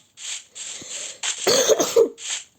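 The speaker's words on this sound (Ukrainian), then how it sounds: "Я не знаю, чому я кашлюю." A run of four or five harsh, close coughs from a woman in quick succession, some single and some clustered, with short pauses between.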